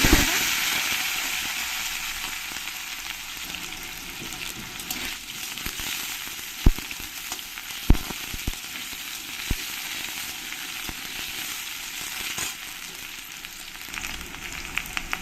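Sliced potatoes fry in hot white cooking oil with a dense, continuous sizzle and crackle, with a few sharp clinks from stirring partway through and no voices.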